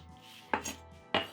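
A knife chops through scallion, trimming the tip off the whites for a curry coconut butternut squash soup: two crisp, close board strikes about half a second apart, with no talking.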